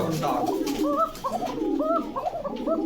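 Pigeons coo repeatedly in a loft of pigeons kept for sale, with a steady run of soft, rounded calls close by and a murmur of voices and movement underneath.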